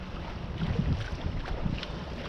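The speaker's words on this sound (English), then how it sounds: "I'm under sail here right now." A singlehanded sailboat under sail in light wind, slightly ahead of a beam reach with a wind vane steering: steady soft rush of water and wind noise on the microphone, with faint creaks and knocks.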